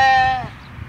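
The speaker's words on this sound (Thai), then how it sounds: "ก็มีแกะนะครับ ประมาณหลายตัวเหมือนกันครับ ร้องแบ่แบ่อยู่นะครับ" Sheep bleating in a flock kept at a shop in Mukdahan province, Thailand: one loud, close, wavering bleat that fades out within a second.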